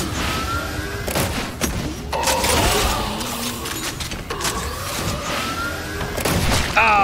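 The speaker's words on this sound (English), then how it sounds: "Oh, there's someone else shooting, okay." Gunfire in the video game Meet Your Maker crackles through a dense, busy soundscape, with several sharp shot bursts spread across the stretch amid steady game noise and no talking.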